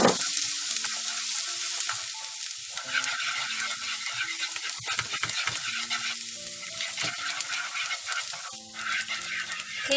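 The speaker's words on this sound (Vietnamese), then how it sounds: "Khi mà dầu nóng thì mình sẽ cho 2 muỗng canh sả ớt băm vào." Minced lemongrass and chili fry in hot cooking oil, a constant bright sizzle and crackle with occasional stirring scrapes, close and steady throughout without talk.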